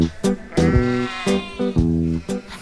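Sheep bleat loudly and close up on a sheep farm, several wavering calls in a row, with short gaps between them.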